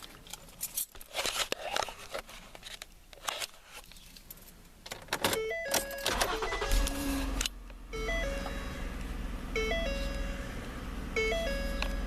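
A Ford Flex is started up, with a crank and rising engine, chimes and warning tones beeping in a repeating pattern, and rustling as the steering wheel is turned, with sporadic handling noises throughout.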